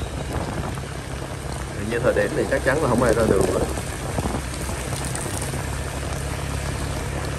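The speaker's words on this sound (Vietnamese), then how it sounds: "Giờ thấy mưa còn đang rất là lớn luôn." Heavy rain pours steadily onto 3 Tháng 2 Street in Vietnam, a dense, close hiss filling the whole stretch while a person speaks over it.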